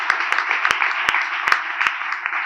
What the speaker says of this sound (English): So I would ask all of you a round of applause for them